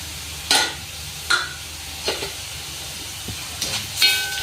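Chili powder with ground mustard and fenugreek fries in oil for Kerala-style mango pickle while a spoon stirs it: several sharp scraping strokes over a soft, continuous sizzle, close by and without voices.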